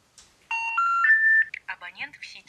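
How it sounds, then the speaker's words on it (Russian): Phone keypad dial tones play in a quick run of beeps, clear and close, with short tones at the start and a longer held tone, followed by speech. "Набери на него."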